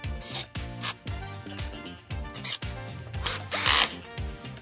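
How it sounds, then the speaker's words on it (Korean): An electric drill on low speed tightens a Rixen Kaul handlebar adapter bolt on a Santa Cruz bike with a Tongsheng TSDZ2 motor. It gives close, repeated short whirring pulses, stopping and starting in a steady rhythm. "자, 그 다음에 드라이버나 드릴 이어서 조여줍니다."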